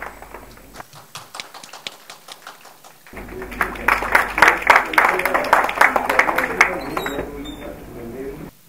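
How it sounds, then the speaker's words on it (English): Audience applause at a student film festival event, starting after a quiet stretch and swelling into dense, sustained clapping from a crowd, with some talk beneath it. "A huge round of applause for the inspiring woman"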